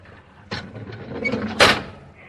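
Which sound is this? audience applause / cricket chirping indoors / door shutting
door shutting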